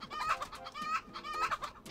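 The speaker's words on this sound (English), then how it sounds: "And you can press the A button to make it cluck." A cartoon toucan in the video game Snipperclips gives a few quick, bright clucks in short bursts, close and clear with no talking.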